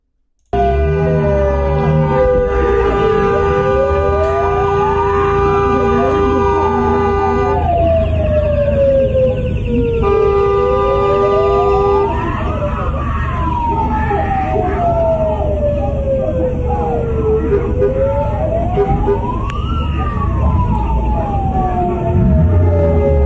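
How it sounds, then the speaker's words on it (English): A loud wailing emergency vehicle siren rises and falls in slow sweeps over continuous background noise at a street scene in Minneapolis–St. Paul, with a faint sharp whistle or two cutting through. "you can hear those whistles. That siren, that is not from Border Patrol or ICE."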